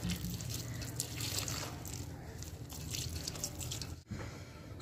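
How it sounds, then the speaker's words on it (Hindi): Water is poured into pakora batter mix in a village kitchen and kneaded by hand, giving steady soft trickling and wet dripping with a brief squishy disturbance near the end, close and quiet. "अब हम इसमें पानी डालेंगे और गूंदेंगे।"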